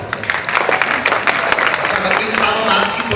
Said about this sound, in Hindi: ताली लगाओ